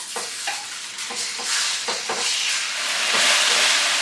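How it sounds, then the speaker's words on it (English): Chicken pieces browning in a hot pan, with a continuous loud sizzle and hiss broken by scraping stirs, the frying swelling steadily louder toward the end, with no talking. "start with frying our chicken."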